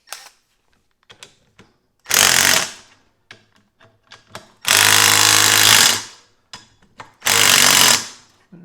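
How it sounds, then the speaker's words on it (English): A power tool tightens bolts on a hub remover tool kit in three loud, sustained hammering bursts of about a second each, separated by small clicks and handling noises, with no talking. "Let's tighten those down."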